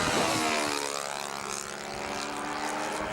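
A large battery-powered model Bearcat airplane flies past, its electric propeller whine sweeping in pitch as it passes fairly close and loud, with no talk over it.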